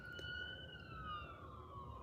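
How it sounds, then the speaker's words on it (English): A faint ambulance siren passes by, its steady tone sliding gradually lower as it moves away beneath low background rumble. "We got some wee-woos going by."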